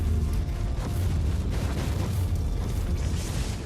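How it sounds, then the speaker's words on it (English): Explosions rumble through a Warhammer 40K Inquisitor game session, a dense, continuous low roar with scattered bursts that stays loud for several seconds and has no clear breaks. "This guy died on explosion as well."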